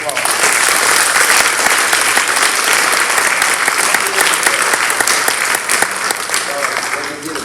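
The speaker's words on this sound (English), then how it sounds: "Let's give them a round of applause." Audience at a Mt Vernon, Texas school board meeting applauds steadily and loudly for the full stretch, a dense continuous wash of clapping from a room full of people, with some talk mixed in.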